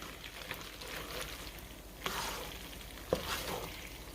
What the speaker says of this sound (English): Just going to stir that all together.